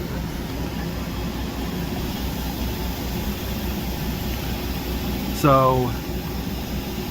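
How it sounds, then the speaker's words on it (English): A loud inflatable bounce-house exhaust fan runs as a steady, broad roar throughout, with a brief spoken word over it near the end. "Also came with a big loud jump house inflatable exhaust fan, which totally serviceable but very loud."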